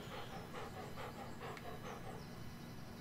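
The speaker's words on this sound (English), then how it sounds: "He's just sitting there panting." Dog panting in the Stardew Valley farming game, a steady rhythmic series of breathy huffs repeating about twice a second over a constant hissing background, with no talking.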